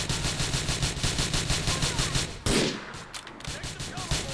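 Gunfire in Grand Theft Auto IV: rapid, evenly spaced automatic bursts fill the first half loudly and closely, then a sharp blast gives way to scattered, quieter shots.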